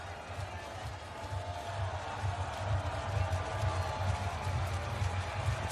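Sustained crowd applause and cheering for the Polish men's volleyball team after a 3-0 win over France at the 2019 Olympic qualifying tournament, a steady arena roar with no speech.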